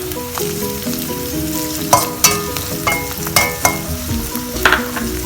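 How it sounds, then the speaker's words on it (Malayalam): Chopped onion and ginger sauté in a hot pan, with a loud continuous sizzle punctuated by a series of rhythmic scraping stirs, close-up and without speech. "ഇഞ്ചിയും വെളുത്തുള്ളിയും അരിഞ്ഞത് ഇട്ടിട്ട് ഒരു 2 മിനിറ്റ് ഇങ്ങനെ സോട്ട് ചെയ്താൽ മതി."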